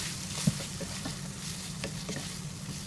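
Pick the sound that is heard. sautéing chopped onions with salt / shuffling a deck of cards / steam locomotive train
sautéing chopped onions with salt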